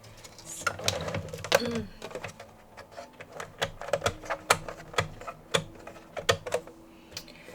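Cinch binding machine being shifted aside on a work surface: a string of sharp clicks and clattering knocks at an uneven pace, close and fairly clear over quiet room tone.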